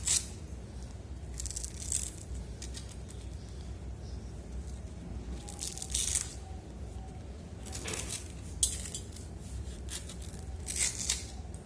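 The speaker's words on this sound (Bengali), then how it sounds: "এই যে কুচি কুচি করে দিই, তাড়াতাড়ি হয়ে যাবে" Vegetables, including eggplant, being finely chopped in a home kitchen, with soft irregular cutting and rustling sounds at moderate-low level, a few louder bursts spread across the stretch, and no talk.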